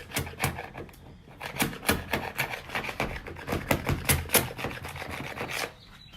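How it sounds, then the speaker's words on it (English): A normal paint scraper scraping an old sticker off an Old Town canoe hull after sticker solvent, a rapid series of sharp rasping strokes, close and steady for several seconds before trailing off. "I'm gonna take me just a normal paint scraper"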